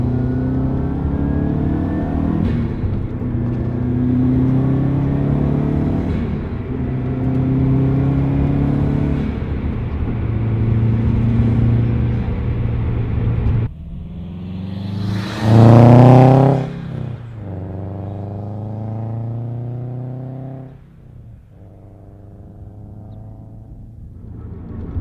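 Subaru WRX fitted with a Gimmick Motorsports exhaust pulling in 3rd gear from 3,000 rpm with windows up, a steady droning engine tone building, then a louder rush and shifting pitch later in the run.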